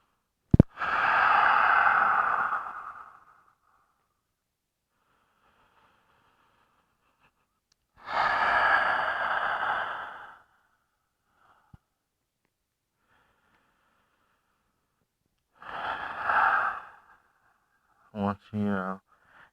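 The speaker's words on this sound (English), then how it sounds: "Just breathe in, breathe in." Slow, deep yoga breaths come in three long, audible whooshes separated by silent pauses, close and clear, with a brief rippling exhale at the end.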